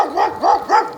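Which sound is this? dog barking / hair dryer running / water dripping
dog barking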